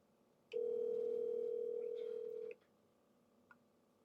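A telephone tone while a caller is being dialed back during a live call-in talk show: one steady, loud tone lasting about two seconds, then quiet with a faint click afterward.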